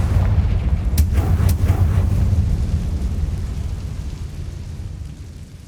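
A Confringo blasting spell from Hogwarts Legacy goes off in a loud, booming explosion with a couple of sharp cracking bursts near the start, then a long rumbling roar that slowly fades away.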